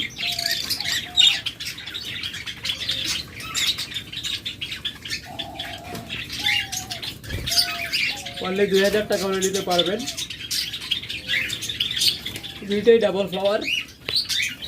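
Pet lovebirds and budgerigars chirp and tweet in cages at a sale, bright repeated calls and short warbling bursts close by, while someone talks over them.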